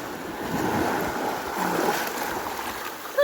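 Sea waves slosh and surge steadily around a small fishing boat in rough water, a continuous broadband wash close by with no one talking.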